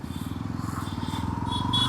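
A loud 350cc cruiser motorcycle engine thumps along in a steady, fast, even pulse, close and prominent with no talk over it.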